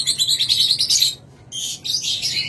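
A breeding pair of caged birds for sale chirps and tweets in quick, bright bursts, close by, with a brief pause midway before the calls resume.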